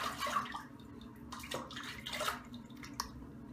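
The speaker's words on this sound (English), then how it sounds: "All right, let me go ahead and rinse off." Water splashes and trickles faintly at a sink while a face is rinsed after a shavette shave with a Feather Artist Club Pro razor, soft irregular splashes close by with no talking.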